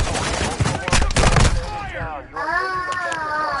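Call of Duty Warzone gameplay gunfire: dense rapid shots burst at the start, then a player's voice takes over with faint game sound beneath.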